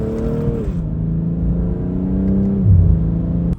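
A 2022 BMW M240i engine revs up through the gears, its tone climbing and then dropping with each shift, loud and close from inside the car.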